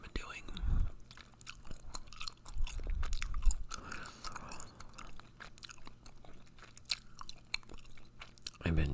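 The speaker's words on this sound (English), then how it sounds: "I've been chewing my gum really obnoxiously" Gum chewed loudly and wetly close to the microphone, with irregular smacks, squelches and small clicks recorded on a sensitive setup, and faint breathy sounds in between.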